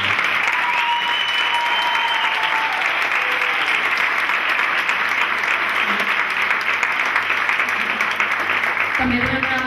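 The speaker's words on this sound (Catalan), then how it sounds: "Sisplau, un aplaudiment per Josep." Festival audience at a Festa Major parade of hereus and pubilles clapping in a dense, sustained round of applause, close and loud, with faint voices mixed in before it cuts off abruptly.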